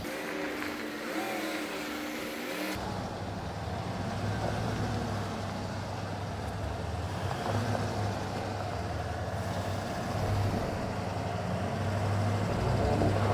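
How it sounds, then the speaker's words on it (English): GMC Sierra Ultimate Denali pickup climbing off-road with wheels spinning, a steady engine drone and low rumble that strains and grows louder over a noisy outdoor background. "You can see that wheel spinning and that wheel spinning, and it's struggling a little bit."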